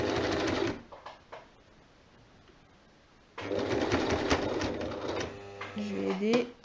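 A sewing machine stitches a jersey neckline on a jersey top near a shoulder seam, running in a short burst, then falling silent, then running again in a longer, steady whirring stretch with a faint hum in the gaps.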